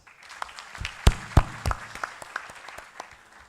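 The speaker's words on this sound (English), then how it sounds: "Big round of applause." An audience at a high-level ministerial conference in Uganda applauds the arrival of a guest of honor, scattered clapping building into a fuller round with a few sharp nearby claps.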